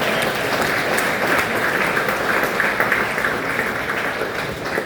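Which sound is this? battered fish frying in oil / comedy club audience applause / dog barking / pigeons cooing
comedy club audience applause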